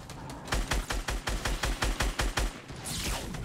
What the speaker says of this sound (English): There's a lot of people shooting us